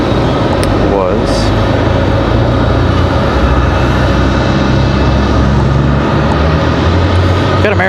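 An American Airlines airliner at Raleigh Durham International Airport produces a continuous loud jet roar that stays steady throughout, with a brief whine near the start.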